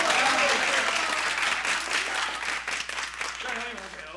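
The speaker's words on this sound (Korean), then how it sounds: "자, 다 같이 박수" A group applauds in a room in a 1983 Korean TV drama scene, with dense, continuous clapping that gradually thins out while voices murmur underneath.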